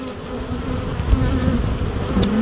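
Many honey bees buzz around a hive box in a dense, steady drone close by, with occasional louder passes as individual insects fly near.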